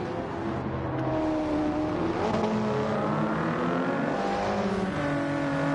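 A Porsche 917 Living Legend race car lapping Sardegna in a racing game, its engine roaring loud and close, pitch climbing and shifting through gears in a steady, continuous drone with no voices.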